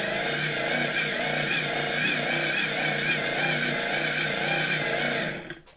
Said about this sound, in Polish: ten drugi podłączę do obudowy silnika i kręcę korbką induktora